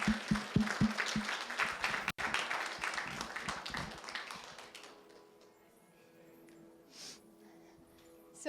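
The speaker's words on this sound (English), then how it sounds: "let's give all of them a round of applause" A live audience applauds after a talk about AI, dense clapping that is loud for the first five seconds, then thins and fades to scattered quiet claps.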